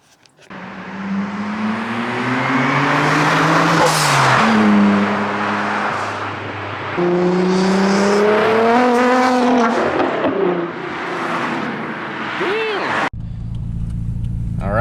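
A Nissan GT-R, either an R32 or an R35, drives with a steady engine drone that climbs in pitch through the gears and drops with each shift, heard from inside the cabin with voices talking over it.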